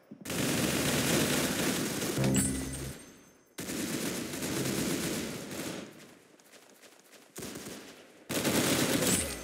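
Video game gunfire in bursts of rapid automatic shots, loud and close, broken by brief silences between volleys, with a dense rattling fusillade returning at the end.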